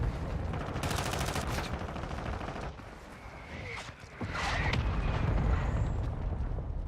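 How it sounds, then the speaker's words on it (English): Mortar strike explosions in Call of Duty MW2 Warzone, a run of heavy booms and rumbling blasts at mid distance, rolling and overlapping across several seconds with a brief lull before another burst. "Our mortar strike is inbound."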